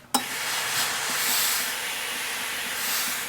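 A steam iron pressed onto skirt-facing fabric and interfacing gives a sharp click, then a continuous hiss of steam that swells and fades slightly.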